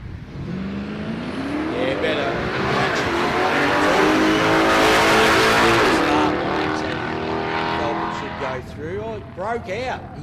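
Drag racing cars, a Commodore wagon and an XR6 Turbo Falcon, accelerate hard with loud, climbing engine tones and gear shifts building to a roaring peak, while a commentator talks over the run.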